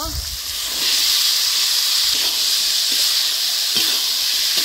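Peas and potatoes tipped into spice paste frying in oil for ghugni, giving a loud, steady hiss and sizzle close by, with a few faint knocks underneath.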